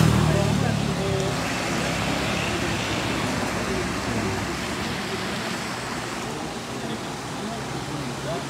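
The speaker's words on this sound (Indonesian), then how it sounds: "Nah, ini ada truk-truk dengan kendaraan dengan berukuran cukup besar juga" Heavy road traffic including trucks and other large vehicles rumbles continuously near a landslide-threatened bridge in West Bandung, a broad steady roar with a voice talking over it.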